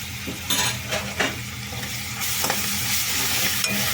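Turmeric and ginger-garlic paste frying in a pan with onions, stirred with scraping strokes over a steady sizzle that swells louder toward the end, close up.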